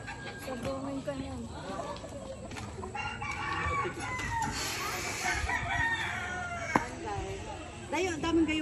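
Chickens cluck and roosters crow throughout a busy chicken farm in the province, a dense, steady chorus of poultry with a person talking over it.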